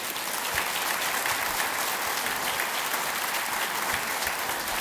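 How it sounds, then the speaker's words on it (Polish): Steady, even applause from a concert audience at a 2014 benefit concert for Mirosław Jędrowski, a dense wash of many hands clapping at a moderate distance without pause. "Mirek Jędrowski, brawa."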